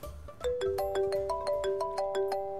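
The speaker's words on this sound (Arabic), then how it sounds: "المبوح اتصل اقفل في وجهه" A phone ringtone for an incoming call plays alone, a bright repeating melodic pattern of short tones rising in steps, loud and close for a few seconds.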